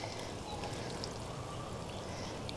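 Water pours steadily onto the mulch and soil around a newly transplanted Gatsby Moon oakleaf hydrangea, a soft continuous splashing hiss that stays even and moderately quiet throughout, with no voices.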